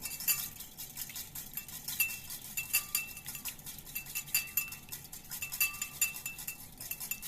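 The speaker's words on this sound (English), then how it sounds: "you're going to want just eggs and milk. You're going to whisk it a little bit." Eggs and milk whisked in a bowl, giving a fast, steady run of light metallic clinks and taps from the whisk against the bowl, close and clear with no talking.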